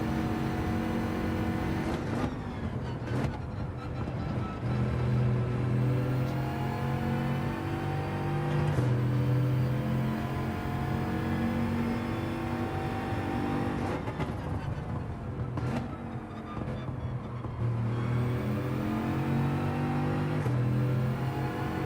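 Bugatti Veyron engine in Gran Turismo 7, revving and short-shifting through gears, a steady loud drone with rising harmonic sweeps and brief dips at each shift, continuous throughout.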